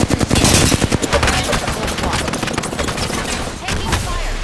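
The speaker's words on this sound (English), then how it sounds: "Being shot at." Rapid video game gunfire rattles in dense, loud bursts, overlapping shots packed almost continuously with no quiet gaps between them.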